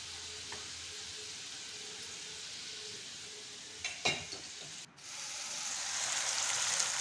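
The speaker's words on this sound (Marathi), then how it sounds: "आणि हे बारीक चिरलेले दोडके ते टाकले फोडणीमध्ये परतून घेतले व्यवस्थित" Chopped ridge gourd sizzles steadily in hot oil tempered with turmeric, red chilli powder and goda masala, a dense close frying hiss with a brief stir clatter partway through.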